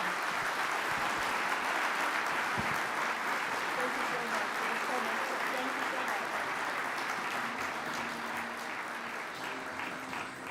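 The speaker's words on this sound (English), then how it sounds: "Give a big hand of applause" A conference hall audience at the opening ceremony of the World Geothermal Congress applauds at the close of a fireside chat, with sustained, even clapping that fades slightly toward the end.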